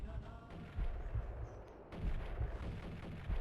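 Gunshots in the Max Payne game, Deli Yürek mod, come as several sharp, booming bursts in a rapid, uneven rhythm, loud and close, with brief quieter gaps between volleys.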